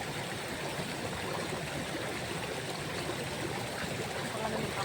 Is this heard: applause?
no